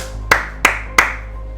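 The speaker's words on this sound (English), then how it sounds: "let me give a round of applause to Arrowhead." Three sharp claps at an even pace, each ringing out briefly, sounding like a short, sparse burst of applause for the game studio Arrowhead rather than a full crowd.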